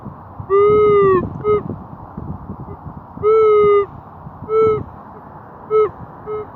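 Electronic chirping tones from a metal detector repeat in several bursts, each a steady pitch with bright harmonics, sounding over a low rumbling background.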